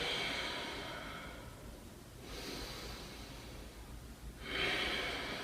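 Heavy breaths of someone lying face down on a yoga mat after an intense upper-body yoga exercise: two long, soft, breathy exhales with a quieter pause between them.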